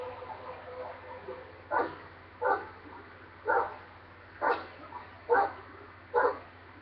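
A dog in Grand Theft Auto V gives six evenly spaced barks, moderately loud, over a steady low background hum.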